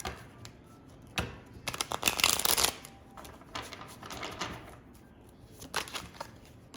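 Oracle cards being shuffled by hand at close range, with a loud riffling burst early on, then softer intermittent shuffles and card handling.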